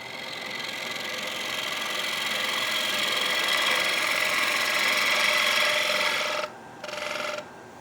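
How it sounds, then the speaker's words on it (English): In a woodturning workshop, a dust collector gives off a steady broadband whooshing hum that slowly swells louder. Near the end it drops out briefly and then returns. "That's the dust collector. That's the remote for the dust collector. I just decided to turn on."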